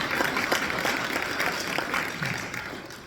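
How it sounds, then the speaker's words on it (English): An audience at an environmental club meet-and-greet gives a speaker a round of applause, a full crowd clapping fairly loudly throughout and easing off slightly toward the end. "Let's have a round of applause for McKenna Dunbar."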